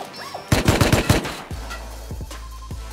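Gunfire in the survival video game Rust: a rapid burst of about eight close, loud shots, followed by three or four sparser single shots over a low hum, with no talking.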